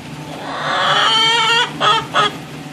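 Wet chickens sheltering from rain on a back porch cluck and chatter loudly up close, a rising run of calls followed by two short sharp squawks.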